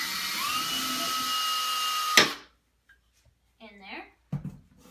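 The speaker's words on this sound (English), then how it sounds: "I'm gonna drill just a small hole" A power drill whines steadily as it bores a small hole in a wooden stair skirt, running for about two seconds and then stopping abruptly, followed by a few clunks and a voice speaking.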